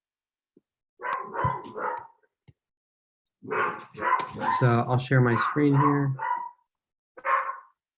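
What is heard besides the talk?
dog barking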